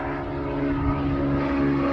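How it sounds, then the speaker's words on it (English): A float plane drones steadily overhead by an Ontario lake, a continuous propeller engine hum with a low throb, fairly loud and unbroken, with no talking. "a float plane flying by."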